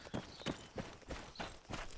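Footsteps running across open terrain in Arma 3: a quick, even run of soft thudding steps, about six in two seconds, faint and close with no talk.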